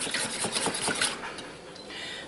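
Flour being stirred into hot bacon dressing in a pan, a rapid run of scraping and clinking strokes that loudens, then eases into a steadier softer stir with a faint sizzle beneath.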